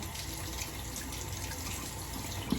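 Steady running water from a tap while a 1960 Gillette Fatboy razor is rinsed under it, a continuous close hiss with a small knock near the end and no talking.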